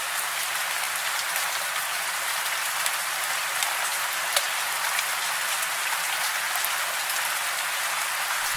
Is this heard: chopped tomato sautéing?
no